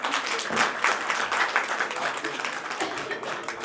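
Dense, sustained audience applause fills a poetry gathering's annual celebration hall as guests are welcomed, steady clapping throughout with no clear pauses.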